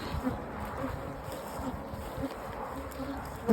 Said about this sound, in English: I still see bees, so I guess I have to get in the car with the bees.